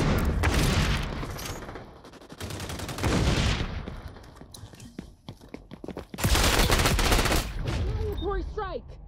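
Assault rifle fire from an ACR in the shooter game XDefiant: dense bursts of automatic gunfire in a few loud stretches with quieter gaps between, speech-like sounds mixed in.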